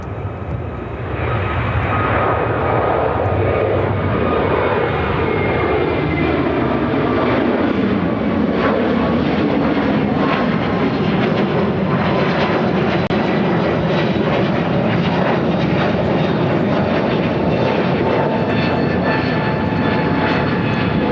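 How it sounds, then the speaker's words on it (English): Heavy, sustained jet engine roar from an Airbus A321neo airliner taking off from Chicago O'Hare, loud and close throughout, with a steady rumble and a gradually changing engine whine and no voices over it. "Flight 2418 taking off on an A321neo to Phoenix."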